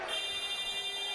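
A loud, sustained electronic buzzer sounds at the end of a Michigan State vs. UCLA college basketball game, a steady tonal blare lasting throughout with arena noise beneath.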